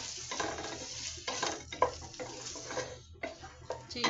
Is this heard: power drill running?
no